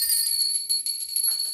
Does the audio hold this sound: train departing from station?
no